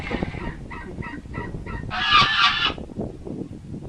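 A goose honks repeatedly, with several short nasal calls building to a loud, harsh honk, close by and without talk.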